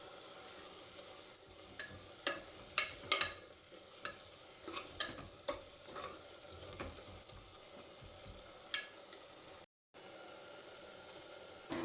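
Palov spices with turmeric powder frying in a pan, stirred with a soft continuous sizzle and scattered scraping clicks of the spoon, close and steady with one brief dropout.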